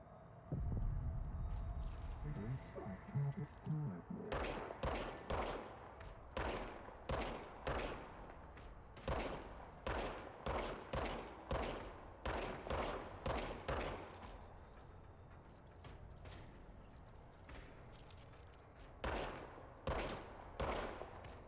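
Gunfire from the video game Control comes as rapid bursts of punchy, evenly paced shots, dense in the first half, then sparser single shots over a low hum, with no voices.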